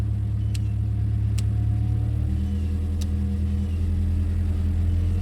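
A/C blower motor running in a 2010 Scion XD after its resistor was replaced, a steady low droning rumble of moving air that continues without a break, with a few faint clicks.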